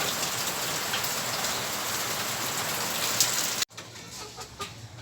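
Steady rain hisses loudly for several seconds, then stops abruptly into a quieter scene with faint distant clucks from Sebright chickens and chicks.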